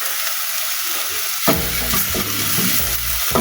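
Onions, carrots and celery fry in a pan as a Spaghetti Bolognese base, a steady close sizzle with stirring scrapes that grow busier after a sharp clatter partway through; no voices.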